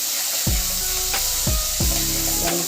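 A spice paste fries and sizzles loudly in a pan for a Telangana-style paneer curry, a steady hiss broken by several scraping stirs of the spoon against the pan.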